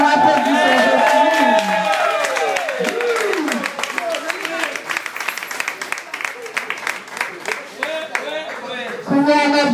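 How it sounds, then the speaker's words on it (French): Congregation at a church appreciation ceremony for a pastor applauding steadily, dense clapping mixed with loud voices and sung or shouted tones throughout, swelling again near the end. "Nous applaudissons Jocelyne."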